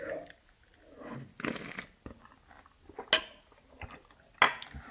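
Someone eats cereal from a bowl by a window, with spoon clinks against the dish and crunchy chewing in irregular bursts, including a few sharp clatters, close and clear without speech.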